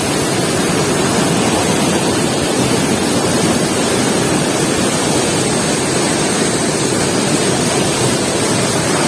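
Water rushes down Sitakunda Waterfall in Odisha during the rainy season, a loud, unbroken roar with wind buffeting the microphone and no voices.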